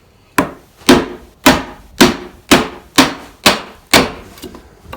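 A corner chisel is struck repeatedly while cutting into the end grain of a timber-frame beam, eight sharp, evenly spaced knocks about half a second apart, close and loud with no talking.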